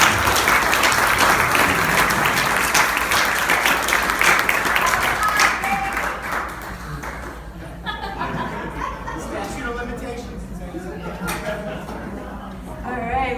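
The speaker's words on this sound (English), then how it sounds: "let's give another round of applause for Matthew" An audience gives a round of applause for Matthew, the honoree of a local storytelling show. Loud, full clapping with some chuckles runs for about six seconds, then fades to scattered claps and murmuring.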